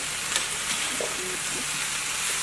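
Green beans, zucchini and squash fry in a hot pan with a steady loud sizzle and hiss, with faint scraping and clinks from the vegetables being turned, and no voices over it.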